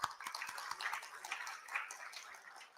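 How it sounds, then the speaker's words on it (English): Audience applause at a healthcare conference, a steady patter of many hands clapping at moderate distance, filling the room evenly throughout. "let's give them a big round of applause"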